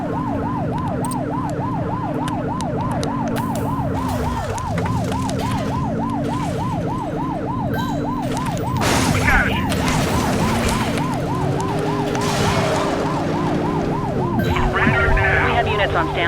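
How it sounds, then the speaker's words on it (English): A police car siren in the video game The Precinct wails in a fast, regular up-and-down cycle, loud and close, with engine rumble beneath and brief game dialogue and impacts toward the end. "Remember to turn your siren on."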